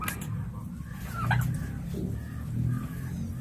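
Farm-raised turkeys gobble and cluck close by in low, bubbling calls, with a few sharper squawks over steady background noise.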